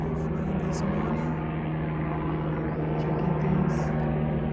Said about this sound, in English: You can hear a certain sound, helicopter sound.